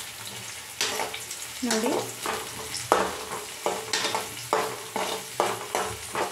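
Chopped onion frying with curry leaves in a pan for a home-style brinjal gojju, a steady sizzle broken by repeated stirring scrapes, with a brief spoken word over it.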